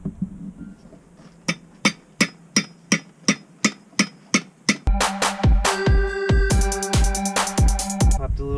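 A hammer strikes a nail being used as a makeshift punch to knock out a pin, ringing in an even run of about ten metallic blows, then blurring into a fast, louder flurry of clanking hits.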